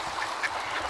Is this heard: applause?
no